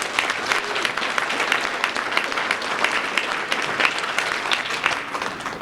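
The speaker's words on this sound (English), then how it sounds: "we can give them a round of applause as well." Steady applause from an audience at a school essay contest event, dense clapping that holds evenly throughout with no pauses.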